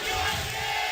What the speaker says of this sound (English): Big cheer for SKT.